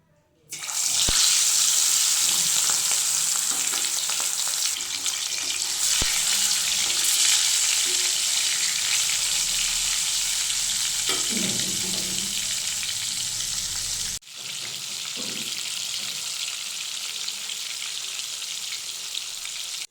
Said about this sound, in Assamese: প্ৰথমতে এতিয়া মাছখিনি ফ্ৰাই কৰি ল'ম।